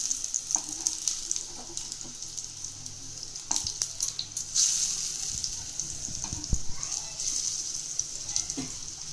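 Chicken cutlets (masala vada style) shallow-frying in oil in a pan give a continuous hissing sizzle with crackles and pops, the patties turned partway, while someone talks over the cooking.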